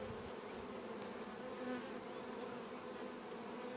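Honey bees hum quietly and continuously during an inspection of a weak hive, a soft, even buzz with no voices.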